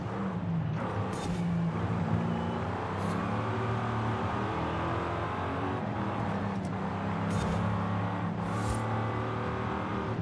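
A V8 car in Forza Horizon 5 driven in first person, engine droning and revving with shifting harmonic pitch, a few brief sharp bursts punctuating the steady roar.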